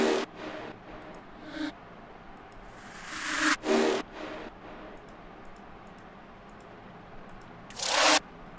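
Small drum fills in a future bounce track play as sparse, fairly quiet percussive hits, with a rising noisy sweep building into a couple of sharper strikes and another burst near the end.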